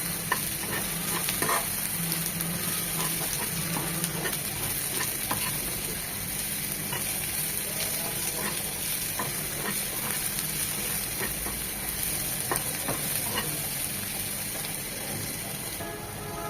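Sliced onions fry and sizzle steadily in a hot pan, a continuous close hiss broken by scraping and tapping as they are stirred, with no talking.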